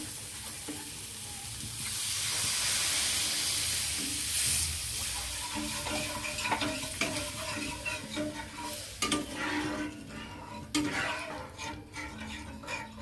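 Mustard-poppy curry gravy bubbles in a pan after water is added, starting as a loud hiss of steam, then settling into a steady simmer with bubbling pops and occasional utensil scrapes.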